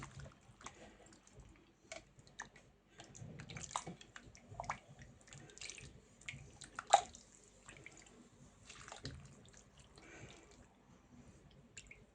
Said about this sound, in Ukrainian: І заливаємо тепер підливою.